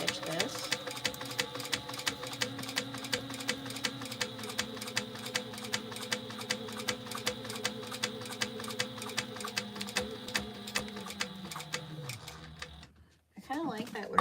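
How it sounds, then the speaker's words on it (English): Sewing machine top stitching a tote bag, running in a fast steady mechanical rhythm with regular needle ticks for about twelve seconds, then slowing and stopping, with a voice faintly present. "now we're just going to top stitch this."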